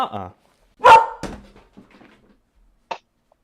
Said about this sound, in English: There's a dog barking outside, and he's barking at the door.